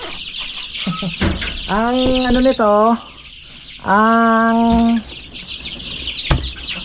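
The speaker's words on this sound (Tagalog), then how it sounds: "Dami pala talaga na nating manok." A chicken gives a couple of drawn-out, wavering calls close by, while a person speaks briefly in between.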